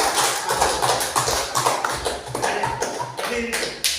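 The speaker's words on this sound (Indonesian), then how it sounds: "Kita berikan tepuk tangan untuk kelompok" Students in a classroom clap for a group that has just presented, uneven, sharp claps close by, lasting a few seconds with some shuffling.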